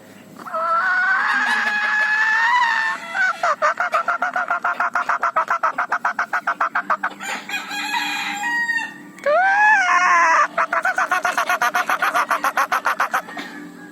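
A wild junglefowl rooster crows loudly and close by, with long drawn calls broken by rapid runs of clucking.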